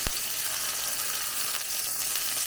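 Water is splashed into a cooking pot of pumpkin dumplings as they are set to steam, a steady broad rushing hiss that lasts the whole stretch with no voices over it.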